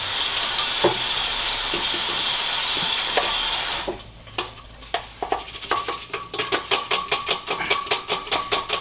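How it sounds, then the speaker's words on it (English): Quinoa rinsed in water: a steady rushing hiss of running water, then a quieter stretch of quick rattling clicks as the wet grains are swirled and shaken, close by, with no talk. "And I'm going to give this quinoa a little rinse here in a minute"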